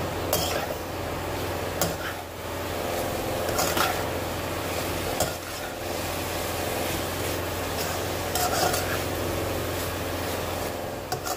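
A spatula scrapes and stirs fried rice with a spoonful of soy sauce in a pan, giving steady close rubbing and scraping with occasional sharper metallic clinks, heard alone.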